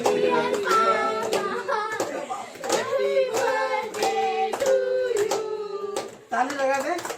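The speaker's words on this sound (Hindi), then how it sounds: "ताली लगा दे" Family birthday celebration at home: sharp, rhythmic hand claps keep time under loud, close singing voices, with a few irregular claps near the end.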